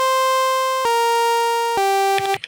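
Bright, buzzy synthesizer tones from an Elektron Digitakt random melody sequence step down in pitch across three held notes, ending with a short burst of rapid stuttering blips.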